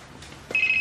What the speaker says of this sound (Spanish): Sería tan amable de atender el teléfono.